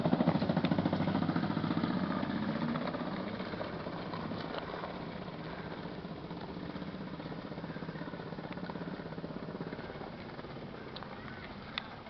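An electric motor-driven cart climbs uphill, giving off a steady close mechanical whirring and rattling drone that eases slightly in loudness over about twelve seconds.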